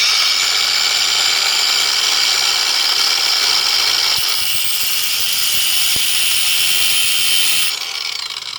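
An angle grinder cuts a slot into the head of a stripped screw, its loud high whine held steady for several seconds, then shifting in tone before spinning down.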